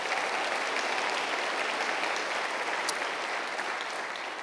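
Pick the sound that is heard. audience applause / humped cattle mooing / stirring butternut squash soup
audience applause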